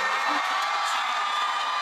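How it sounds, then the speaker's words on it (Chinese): An audience at a live Cantonese pop event applauds and cheers in a dense, even wash of clapping and crowd noise that carries on steadily for the whole short stretch, with no clear speech. "俾掌声"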